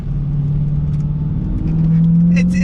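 A Dodge Challenger Hellcat with a six-speed manual revs hard under throttle, its loud, near engine droning steadily and then climbing in pitch as the revs rise, with a brief squeal of tyres at the end.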